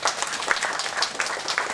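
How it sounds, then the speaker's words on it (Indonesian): Applause from the audience at an Indonesian parliamentary commission working visit in Sorong, West Papua, steady dense clapping from a crowd heard close and fairly loud, with no voices over it. "Tepuk tangan sekali lagi."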